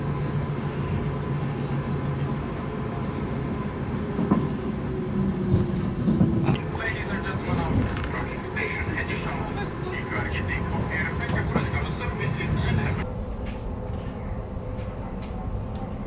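A EuroCity train pulls into a station in Hungary, a low steady rumble with rolling clatter building toward the middle, while a loud station announcement plays over it.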